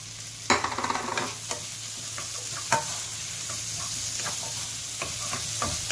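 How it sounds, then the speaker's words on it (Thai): Shrimp stir-frying in a pan for basil stir-fry, a constant close sizzle punctuated by sharp spatula clicks and scrapes against the metal. "เอากุ้งลงไปผัด"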